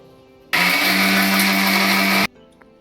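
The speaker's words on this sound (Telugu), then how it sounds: "మసాలా దినుసులు అయితే నేను మిక్సీ వేసేస్తున్నాను కదా, ఇప్పుడు దాంట్లోనే అల్లం వెల్లుల్లిపాయలు కూడా కలిపేస్తున్నాం" A kitchen mixer grinder grinds fried whole spices with ginger and garlic, roaring loudly for just under two seconds with a steady motor whine before cutting off abruptly into near silence.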